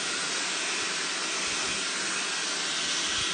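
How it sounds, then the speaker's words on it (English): A hair dryer with a nozzle attachment blows down over hair during heat styling, a steady close rushing hiss of air with no breaks. "I'm going to come above and just blow dry down"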